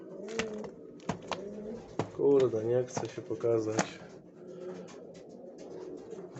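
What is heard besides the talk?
pigeon cooing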